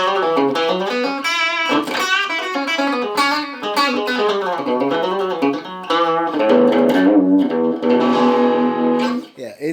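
A bright, twangy electric guitar on its bridge pickup, a Strat copy slightly out of tune, plays a lively funky run of notes and chords, close and fairly loud, with no voices.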